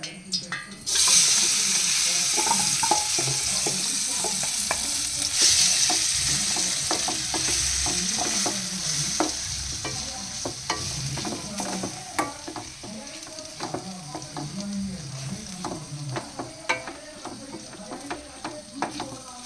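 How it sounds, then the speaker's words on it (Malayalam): Beef rubbed with chilli, turmeric and coriander powder drops into hot oil with a loud sizzle, then keeps frying steadily while a spoon scrapes and clacks against the pan in repeated strokes, with faint talk in places. "ഇനി ഞാനിതിനെ ഈ എണ്ണയിലോട്ടിട്ട് ഒരു 5 മിനിറ്റ് വഴറ്റിയെടുക്കും"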